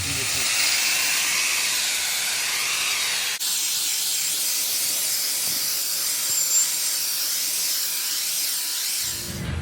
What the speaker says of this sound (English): That's one hell of a cleaning wheel.